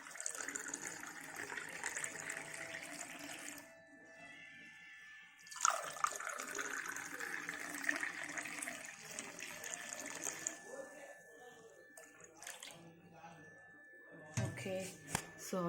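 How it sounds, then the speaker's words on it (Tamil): Homemade amla (Indian gooseberry) juice poured into two glasses, with two faint bursts of splashing liquid trickling and filling, separated by a quiet pause, with a few soft clinks and light handling noises near the end. "இப்போ நம்ம 2 பேத்துக்கு முதல் ஊற்ற போகிறோம்."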